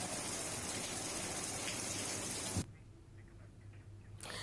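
Rain falls in Mehsana under cloudy skies, a steady hiss of drops that cuts off abruptly partway through and leaves a quieter, muffled background before the hiss returns briefly at the end.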